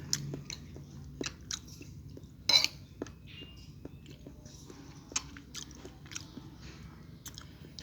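Close, quiet chewing of kikil, beef skin in soy sauce, with scattered wet bites and smacks, a spoon clinking against a dish, and a brief louder clatter early on.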